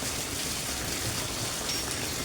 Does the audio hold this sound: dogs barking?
no